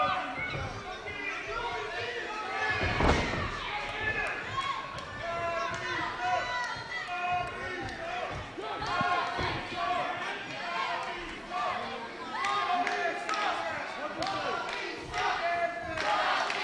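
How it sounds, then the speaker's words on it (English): A wrestling crowd at an indie ACPW event roars with sustained, dense booing and shouting, many voices overlapping in a continuous loud wash with a few sharp thuds and bursts, steady throughout and close around. "And now the crowd is returning, being very, very vocal with Brad Studd's, explaining their disapproval with his opinion"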